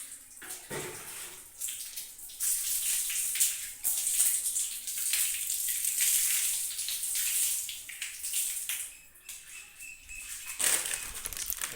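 Water splashes and pours across a room floor during washing, a sustained close rushing with brief pauses and splatters, then a fresh burst near the end.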